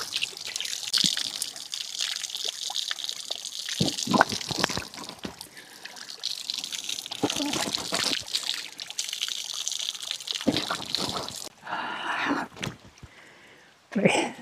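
Water from a natural spring in Bailen, Cavite trickles and splashes close by, an uneven stream with occasional louder spills and knocks, faint and continuous.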